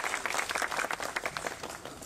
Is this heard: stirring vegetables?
no